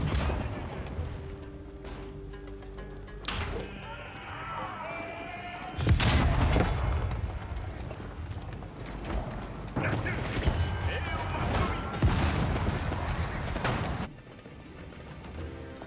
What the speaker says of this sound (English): Bombard nailing this outpost.